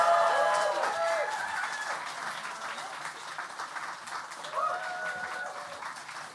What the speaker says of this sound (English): keep clapping, yes